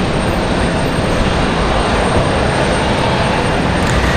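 Delta A320 jet airliner departing Raleigh-Durham airport for Detroit, a continuous loud engine roar that stays even and dense throughout, with no talking.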